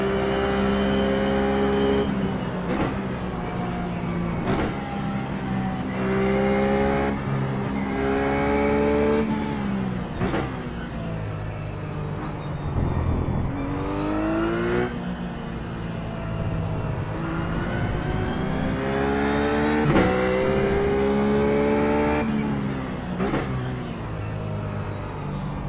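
A Ruf GT3 race car at Interlagos in iRacing roars continuously and loudly, its engine climbing in pitch through repeated gear changes with brief dips between shifts, steady and close throughout.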